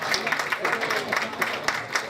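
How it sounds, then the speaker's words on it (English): An audience at a discussion event in a banquet hall gives a round of applause, a dense wash of clapping held at steady loudness across the whole short stretch with no clear gaps. "Give them a round of applause as well for putting on this great event."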